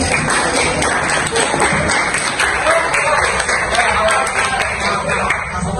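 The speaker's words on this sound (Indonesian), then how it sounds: "Oke, dari kali ini tepuk tangan dong." A crowd claps together in a loud, continuous wash of applause that holds steady for several seconds, close and full, with faint voices mixed underneath.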